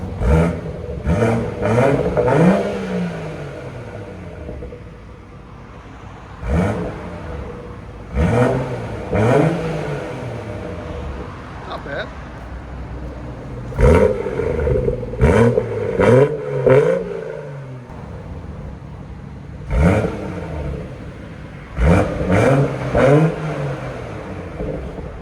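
A 2018 BMW M240i with a 3.0L inline-six and resonator-deleted exhaust idles and is revved repeatedly, its loud, close blips rising and falling in clusters, with a brief spoken comment.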